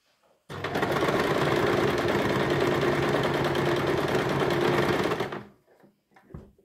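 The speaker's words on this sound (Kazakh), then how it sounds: "Мен әзір зигзагтай саламын." A sewing machine runs a continuous zigzag stitch through fabric, a loud, fast, even mechanical chatter lasting about five seconds before stopping, with a few faint handling noises afterward.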